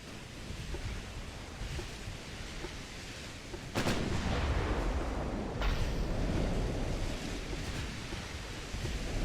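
Naval ship guns fire in the game Ultimate Admiral: Dreadnoughts during a battle at Tsushima, with heavy booming shots over a constant rush of ocean and wind noise.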